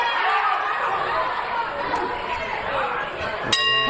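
A boxing ring bell strikes once near the end of a pro bout between Isaac Cruz and Thomas Mattice, ringing clearly over loud arena crowd chatter.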